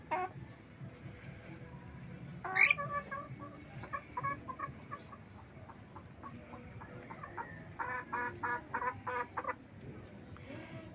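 A red junglefowl (labuyo) hen clucks in soft, irregular bursts close by, with one sharper call early on and a run of rapid clucks later, amid quiet outdoor background.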